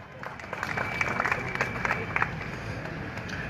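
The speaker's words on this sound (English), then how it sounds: "You guys are so brilliant. Clap for yourself." Children clap for themselves at an independence celebration gathering, a steady ripple of applause building and holding, with crowd voices underneath.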